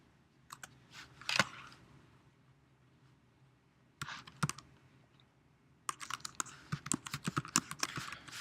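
Typing on a computer keyboard, bursts of quick close clicks and taps separated by pauses, the last burst dense and continuous, with no talking.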